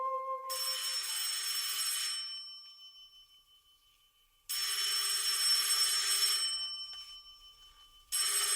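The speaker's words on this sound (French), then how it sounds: "Allô? Allô? Allô, Paul? C'est toi, Paul? Qui est à l'appareil?" A telephone rings in two long, loud trilling bursts separated by a pause, with the start of a third ring at the end; the tone is bright and electronic.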